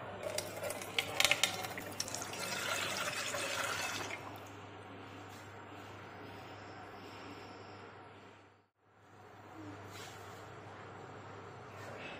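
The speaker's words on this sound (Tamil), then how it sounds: "மூணு டீக்கும் ஒரு ஒரு கிளாஸ் தண்ணி ஊற்றணும்" Water is poured from a glass into a pot while making herbal tea with ginger, pepper and custard apple leaves, a close trickling splash for about four seconds, then quieter running with a brief pause and a faint resumption.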